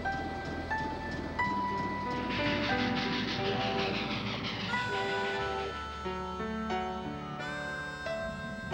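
A train rolls along with a steady low rumble under layered, sustained whistle-like tones, heard alone and fairly loud throughout, in the era of late-1800s emigration to America.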